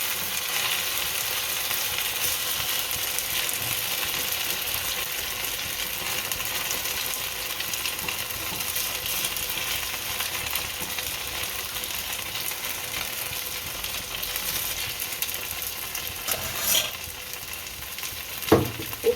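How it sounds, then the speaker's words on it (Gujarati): Semolina and potato mixture frying in a pan while being stirred, a steady broadband sizzle throughout with no talk, and a couple of sharper scraping knocks near the end. "આમ ભેળવી દઈશું. અને ચડવા દઈશું."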